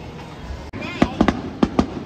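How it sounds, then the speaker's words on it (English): Fireworks burst at a family vacation at Wildwood, with several sharp booming explosions in quick pairs, fairly close and loud over a constant crowd murmur. "Enjoy the fireworks."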